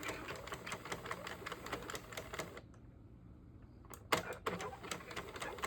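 A Sentro 48-needle knitting machine is cranked through rows, giving a close, quiet, rhythmic clicking and rattling that pauses for a moment and then resumes.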